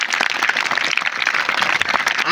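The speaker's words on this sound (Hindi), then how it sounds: "जोरदार तालियां सारे इंस्टीट्यूट और स्टाफ के लिए।" Audience at a road safety seminar clapping for an institute and its staff, a short, dense burst of applause from a roomful of people.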